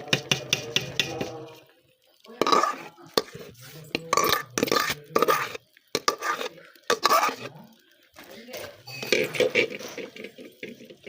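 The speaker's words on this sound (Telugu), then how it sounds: "బెల్లము పూస చక్కగా కలిసేటట్టు కలుపుకోవాలి" A pan of jaggery syrup being stirred while making a sweet: repeated scraping and sloshing strokes in uneven bursts, fairly close and loud, with short pauses between them.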